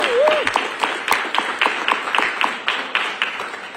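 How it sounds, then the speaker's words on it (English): An audience at a transit authority board meeting gives the students a round of applause, a moderate, fairly close burst of clapping with distinct individual claps standing out, under a brief voice at the start. "one more round of applause for the students"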